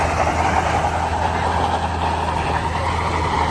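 A modified truck in a tug of war with its wheels spinning, giving a steady loud engine roar and tire rumble, with a voice talking over it.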